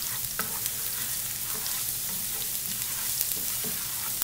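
Garlic frying in oil over high heat gives a steady, close sizzle with faint crackles and stirring noises, lasting the whole stretch with no talking.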